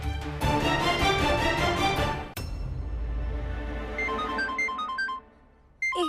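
A mobile phone plays a melodic ringtone, loud and close, over a music score that continues after the ringing stops, with no speech.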